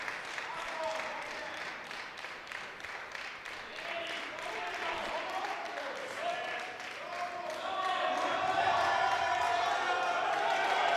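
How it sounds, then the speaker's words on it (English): Swedish fans in the crowd at a classic powerlifting competition, a European university cup, cheer and clap, a steady roar under commentary that swells louder near the end. "listen to the Swedes in the crowd"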